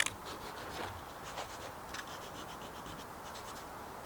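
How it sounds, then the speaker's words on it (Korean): Sandpaper lightly rubbed over a freshly painted Hyundai Starex van panel to smooth brush marks, a soft, steady scratching with repeated short strokes, close and fairly quiet. "얘를 가볍게 이제 표면을 사포로 좀 정리해 준 다음에 그 다음에 바를게요"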